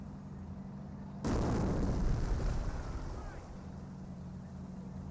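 An incendiary mortar explosion in Company of Heroes, a sudden loud blast followed by a rumbling, crackling tail that fades over a few seconds.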